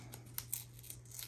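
Paper being torn by hand during card crafting, a few short crisp rips and scrapes close up over a steady low hum, with no talking.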